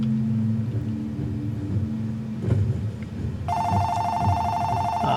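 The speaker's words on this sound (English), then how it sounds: "Oh shoot, the phone would have to ring." A telephone ringing indoors cuts in sharply and keeps sounding loudly with a bright electronic tone over low room rumble, following some quieter clatter.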